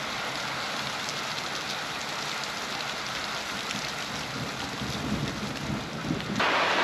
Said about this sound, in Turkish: Bu arada yağmur birazcık başladı.